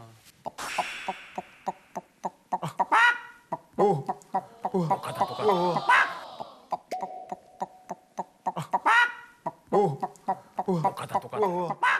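A voice imitates a hen's cackle after laying an egg, with rhythmic, clucking bursts that rise into drawn-out squawks, repeated over several seconds.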